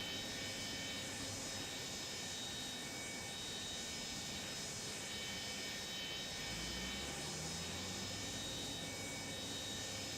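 A Boeing 727F freighter rolls down the runway in Microsoft Flight Simulator, its jet engines giving a steady, loud roar with a low rumble that shifts slightly toward the end.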